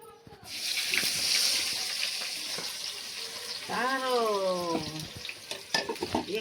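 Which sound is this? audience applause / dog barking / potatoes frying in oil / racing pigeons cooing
potatoes frying in oil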